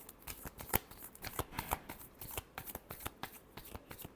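Tarot cards being shuffled by hand, quiet close riffling and flicking in quick irregular bursts, with no talking.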